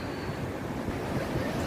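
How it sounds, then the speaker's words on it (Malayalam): Rushing water from Athirappilly waterfall crashing onto rocks, a steady soft roar heard from some distance, with no voices over it. "പാലൊഴുകി വരുന്ന മാതിരി ഉണ്ട് വെള്ളച്ചാട്ടം."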